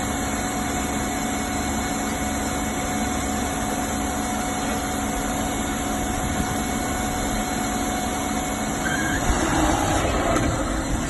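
Fire pumper engine running hard while feeding a deck gun at 875 kPa outdoors across a parking lot, a loud steady engine drone with continuous rushing and hiss that holds level throughout.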